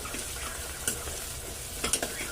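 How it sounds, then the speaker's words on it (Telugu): Onions stirred as they fry in a pan for mutton bagara rice, a steady close sizzle broken by two or three brief scraping clinks of the spoon. "ఉల్లిపాయలు అయితే ఒకసారి కలుపుతున్నాం కలుపుకొని బాగా ఎరుపు రంగు వచ్చేంత వరకు వేయించుకోవాలి"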